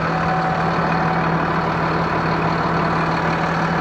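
Farm tractor model 7716 idling on spring wheat drilling, a loud, steady low engine rumble with a constant hum, unbroken and without talk.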